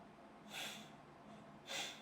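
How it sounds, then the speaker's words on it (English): Two quick, soft sniffs through the nose, close by and spaced about a second apart in a quiet room. "Pardon the sniffles."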